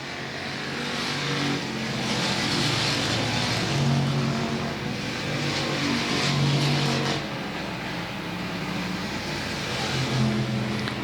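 Pure stock race cars roar around the oval at South Texas Speedway, a steady wash of engine noise from several cars with swells as they pass, heard from a distance with no talk over it.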